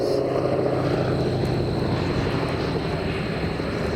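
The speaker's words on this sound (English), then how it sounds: "you've seen the B-17 Flying Fortress" Droning piston engines of a B-17 Flying Fortress, a WWII four-engine bomber, hum steadily at moderate distance at a bomber gathering, a continuous even roar without talk.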